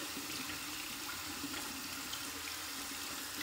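A tap runs steadily, wetting an Osma alum block under the stream, a close, even rushing hiss of water with no talk.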